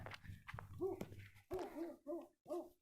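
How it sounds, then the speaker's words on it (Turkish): A dog whimpers and yips in short repeated bursts, fairly faint and some distance off, with low background rumble. "Orada bir köpek var."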